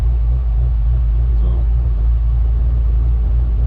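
A customized 2009 Pontiac G8 GT on the road, heard from inside the cabin as a deep, steady engine and road rumble that stays loud and constant throughout.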